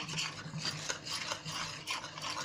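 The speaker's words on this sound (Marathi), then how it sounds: "हे असं चांगलं आहे ना पीठ, असं चांगलं फेटून घ्यायचं." Gram flour batter for stuffed green chillies being whisked by hand in a bowl, a steady rhythmic scraping and rubbing that stays close and continuous with no talk.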